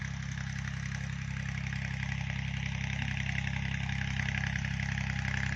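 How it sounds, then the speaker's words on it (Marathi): A tractor engine runs steadily at a farm, a low droning idle with a constant rumble that stays fairly close and even throughout, with no talking. "बघा आता दिसेच काकांचं ट्रॅक्टर आलं इकडं"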